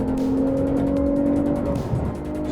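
A 2021 Lexus IS350 F Sport on a wet road revs hard in manual mode, its engine note rising steadily and loud, close and smooth, with no talking over it.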